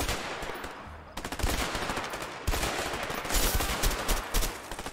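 Rapid gunfire in the video game A Way Out, bursts of dense automatic shots crackling in two loud stretches after a brief quieter lull, sustained and close with no talk over them.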